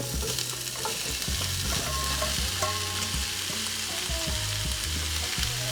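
Carrots, celery and squash sauté in a pan for a Levantine lentil soup, a steady loud sizzle with repeated scraping and clinking as a utensil stirs them.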